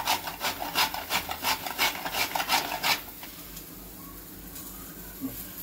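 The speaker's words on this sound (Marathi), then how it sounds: "आता अशा पद्धतीने थोडं खोबरं किसून घ्यायचं, भाजीला लागेल तेवढंच" Coconut is grated by hand for an eggplant vegetable dish: about eight quick rhythmic scraping strokes, close and fairly quiet, then the scraping stops and only faint room noise remains.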